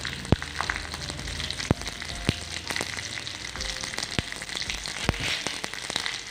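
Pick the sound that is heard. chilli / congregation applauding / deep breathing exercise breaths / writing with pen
chilli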